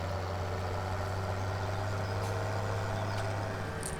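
A tractor engine in Farming Simulator 17 drones steadily at idle, its low hum unbroken and fairly loud throughout, with no voices over it.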